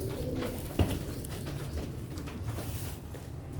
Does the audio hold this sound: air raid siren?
no